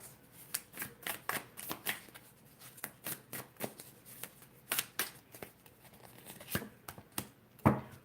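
Tarot cards being shuffled by hand, a quick run of crisp riffling flicks and slaps repeating steadily over several seconds, close and fairly quiet, with no talk.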